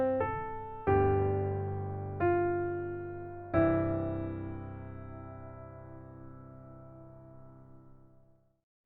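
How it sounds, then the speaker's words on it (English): Slow melody in Ionian mode over a I and V chord progression, four struck notes with full ringing chords underneath, the last sustaining and fading out gently, played alone. "Now I'll add an Ionian chord progression over this melody."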